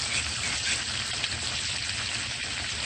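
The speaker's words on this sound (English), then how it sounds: "And just stir." Seafood boil in garlic butter sauce with lemon juice sizzling and bubbling steadily in a hot pan while being stirred, a dense continuous crackle close up with no talking.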